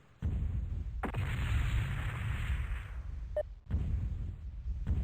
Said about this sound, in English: Critical hit. Internal ammo explosion detected.